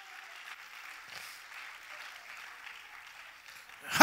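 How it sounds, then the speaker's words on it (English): Church congregation clapping hands together in praise, a steady sustained patter of many palms throughout, swelling louder at the very end. "Clap your hand and praise him now."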